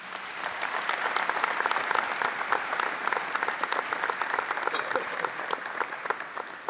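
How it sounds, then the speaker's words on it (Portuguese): A church congregation applauds newly ordained priests at a Catholic Mass, a dense, steady round of clapping from a large crowd that holds evenly throughout without a break. "Vamos aplaudir a todos eles."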